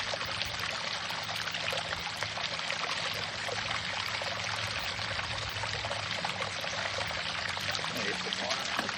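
Water pours and trickles steadily through a recirculating mini highbanker set up at home for gold prospecting, a constant loud splashing flow throughout with no pauses.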